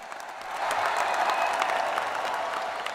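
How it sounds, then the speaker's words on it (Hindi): A crowd applauds at a political rally in Delhi welcoming the Delhi team, a dense, steady patter of many hands clapping throughout, fairly close and sustained without pause. "एक बार दोनों हाथ से तालियां बजा के दिल्ली की टीम का स्वागत करें"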